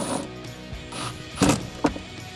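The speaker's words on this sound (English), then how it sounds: "So now I can go ahead and tighten down this clamp that's holding on our filter" A ratchet socket wrench tightens a hose clamp on a Tacoma's cold air intake filter, giving close clicking ratchet strokes with two louder turns near the end.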